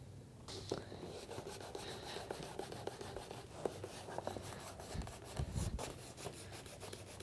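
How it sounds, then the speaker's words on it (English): The edge of a leather inlay on a saddle seat is burnished by hand, making a soft, continuous rubbing and swishing of quick back-and-forth strokes, close but faint. "burnishing the edge just smooths those fibers down"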